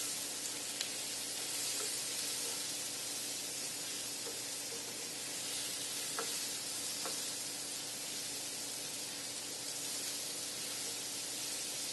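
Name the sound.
onions frying in a skillet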